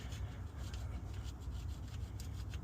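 A steel chisel used as a scraper grinds steadily across a cast iron manifold, a continuous gritty rasping scrape with a rhythmic push-pull texture, close and fairly loud throughout.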